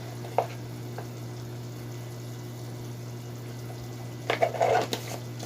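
Chili and turmeric powder sautéing in a pan give a faint, steady sizzle over a low hum, with a short burst of stirring and scraping near the end.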